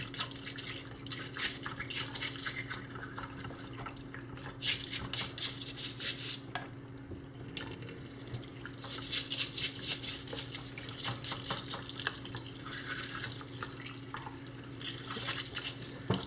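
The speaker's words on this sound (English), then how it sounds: "Let's go ahead and run some more water. Hopefully the water's not too loud" Steady running water hisses continuously at close range during aquarium pump maintenance, with scattered clinks and drips over it and no talking.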